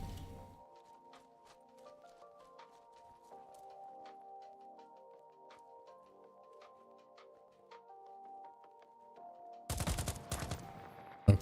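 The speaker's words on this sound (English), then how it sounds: "So that's a single fire round." Video game gunfire in single-fire mode: a short, loud cluster of sharp shots bursts in at the end after a long stretch of quiet, steady synth-like background tones.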